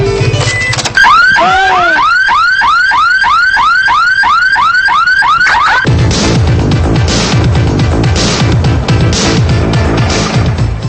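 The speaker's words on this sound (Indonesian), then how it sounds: "Dari kemarin mobilnya Mama pasangi alarm canggih, merek Roncar." A Roncar anti-theft car alarm blaring loud and close: a rapid series of repeated rising electronic whoops, then a switch to a harsher pulsing, cycling siren tone that continues to the end.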